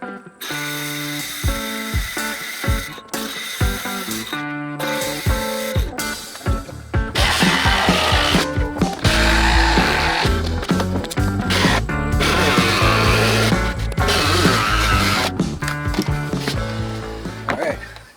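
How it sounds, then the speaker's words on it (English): A jigsaw cutting curved radiuses in wood for a truck backseat platform, buzzing in short bursts at first, then running continuously and loudly for several seconds close by, with no voices. "we'll come in with the jigsaw."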